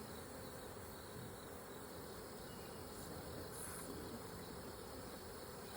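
Honeybees swarm around an opened backyard hive during an inspection, a dense, steady buzzing hum close by that rises from calm to agitated, with no talk over it.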